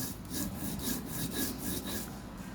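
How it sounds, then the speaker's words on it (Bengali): Dried chili and pointed gourd peel are ground by hand on a stone slab, making close, rhythmic back-and-forth rubbing strokes that repeat several times in quick succession without any talking. "আমি শুকনো মরিচটা বেটে নিলাম তারপর আমি একটু দিয়ে দিব হচ্ছে পটলের খোসা"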